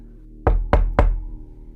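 Three loud, sharp knocks on a door, evenly spaced and close by, setting an ominous mood for a Halloween horror story; a faint room tone lingers afterward with no voices.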